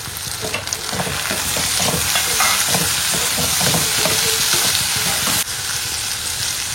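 Curry leaves, green chillies and tomato fry in hot oil for poori masala, giving a loud, steady sizzle with stirring scrapes throughout, briefly dipping near the end; no talking.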